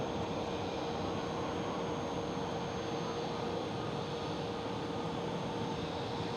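An EasyJet Airbus A319 at Amsterdam Schiphol airport gives off a steady, broad jet roar that holds evenly throughout, with no talk heard.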